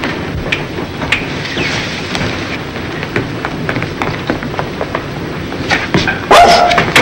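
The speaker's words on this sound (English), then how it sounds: "It's a dog." A dog barks and whimpers in a 1945 film scene aboard a ship's hold, with repeated short yelps and whines fairly close, plus a brief voice near the end.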